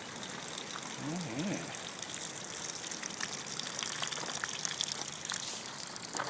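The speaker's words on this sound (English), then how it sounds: "Everything's getting watered just as planned. It's dripping right through." A MiWi drip irrigation system waters a garden, giving a steady wash of trickling, splashing water throughout, with a voice speaking briefly over it.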